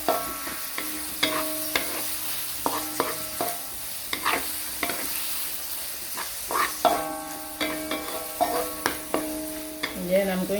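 Seafood and holy basil being stir-fried in a wok, with fish sauce just added: a spatula scrapes and clanks against the metal in repeated strokes over a steady, close sizzle, with no talking.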